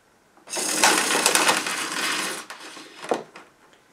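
Cable rewinds into a Hoover The One Pet bagless upright vacuum cleaner, a quick rattling whir lasting about two seconds, then a couple of short clunks as it finishes, close and moderately loud.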